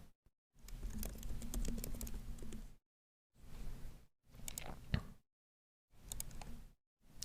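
Someone types on a computer keyboard in short bursts of quick, close key clicks separated by brief silent pauses.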